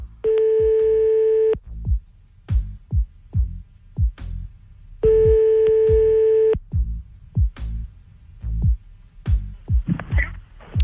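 Telephone ringback tones on a call-back: two long steady tones about five seconds apart, with a low rhythmic thumping pattern in between and a brief noisy burst near the end.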